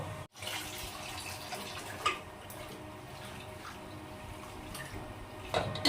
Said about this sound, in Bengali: পায়েস রান্না করার জন্য তো চালটাকে এখন ভালো করে ধুয়ে নেব